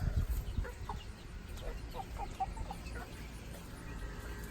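Ameraucana chickens cluck softly in a backyard flock, scattered short calls over a low, steady outdoor background.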